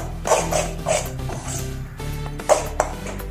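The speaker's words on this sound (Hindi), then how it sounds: "ऐसे चम्मच से हिलाते हुए इसको पकाना है।" A spoon stirs spices frying in a pan for a drumstick (sahjan) vegetable curry, giving repeated metallic clinks and scrapes against the pan over a low steady sizzle, with a couple of sharper taps near the end.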